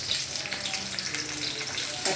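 Green chillies and ginger sautéing in a pan give a steady, soft sizzle and crackle, with a small clatter near the end.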